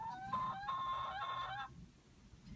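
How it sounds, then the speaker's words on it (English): Chickens cluck and call in a short burst of close, nasal squawks lasting about a second and a half, then fade into quiet background, with no voices. "The chickens, for example, who are very noisy today."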